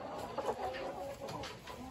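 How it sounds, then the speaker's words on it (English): Big roosters cluck in a crowded barn, low and steady, with overlapping soft calls from several birds nearby. "But they are some big roosters."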